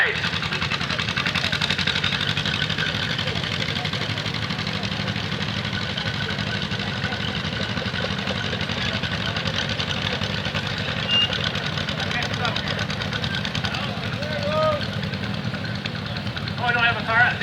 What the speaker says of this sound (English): This is another one of Darwin's tractors. This is the John Deere MC, made in Dubuque